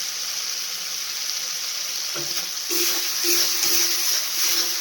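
Spices fry in oil in a pan for ghugni, a soft steady sizzle and hiss that grows a little louder partway through, heard alone without talk.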